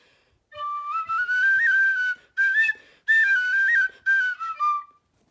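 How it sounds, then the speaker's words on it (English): A nose whistle played with a clear, bright whistling tone in several phrases separated by short pauses, the pitch sliding and warbling, loud and close with no talking. "Or the nose whistle."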